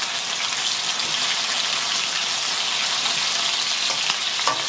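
Chicken meat with garlic fries in a pan, turned to its second side, giving a steady, dense crackling sizzle with small pops, close and continuous with no voices.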